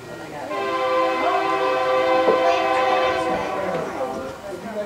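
A Union Pacific train rumbles past at Rochelle, Illinois, with a long, loud multi-tone horn blast held for several seconds, then fading, with faint voices in the background.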